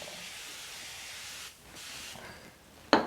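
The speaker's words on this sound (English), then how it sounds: "you just spray this onto the actual glass" Soap scum cleaner sprayed from a shaken bottle onto a glass shower door, heard as a long steady hiss that pauses, starts again, then ends with a sharp nearby click or clatter.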